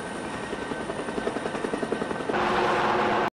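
A helicopter during a sea rescue exercise gives a steady, rhythmic rotor thumping with engine whine, growing louder and fuller near the end before cutting off abruptly.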